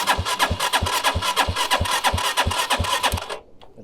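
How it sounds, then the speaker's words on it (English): A Skyteam Ace 125cc motorcycle, styled as a Honda RC110 GP race replica, is cranked over. The starter turns the engine with loud, regular pulsing beats for about three seconds, then the sound drops off without the engine catching. "We'll start up. Hopefully it starts. Let's start it up."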